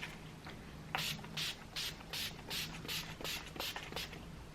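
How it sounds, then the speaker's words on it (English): Setting spray misted onto a face in a run of about eight short, soft spritzes in quick rhythm, quiet and close against a faint background hum. "I like to add setting spray first and then highlighter."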